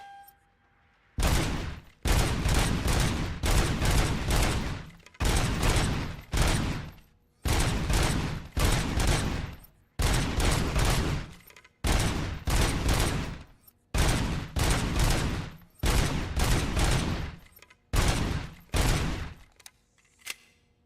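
Rapid automatic bursts from the Auto 9 pistol in the video game Robocop: Rogue City, loud and close, fired in about a dozen repeated volleys separated by short pauses.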